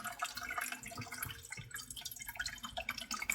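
Water pours from a filtration system tap into a Wi-Fi kettle at weak pressure, a continuous close trickle and splash with no talk.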